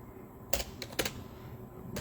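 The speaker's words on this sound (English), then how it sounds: "I type like a grandma." Slow, hesitant typing on a keyboard: a few separate key clicks spaced out over a couple of seconds, close and fairly quiet, with no voices.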